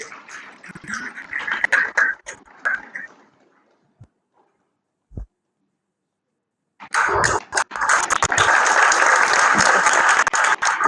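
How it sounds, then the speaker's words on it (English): Audience at a TEDx talk claps in a round of applause as a speaker comes on stage, first a smaller burst, then a quiet pause, then loud, sustained dense clapping from the whole room. "we'll give her a round of applause as she comes on stage"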